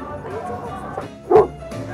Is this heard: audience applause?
no